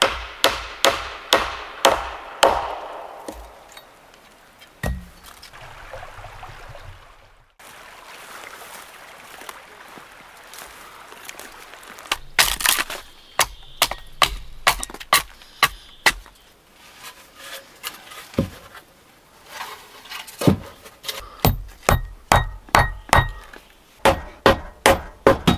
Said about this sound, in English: Work continues with carving and stacking dry firewood into large piles by the porch.